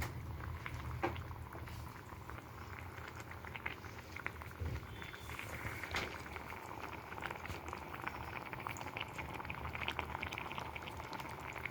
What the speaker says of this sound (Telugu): ఇప్పుడు కర్రీ మంది ఆల్మోస్ట్ బాయిల్ అవ్వడం స్టార్ట్ అయ్యింది.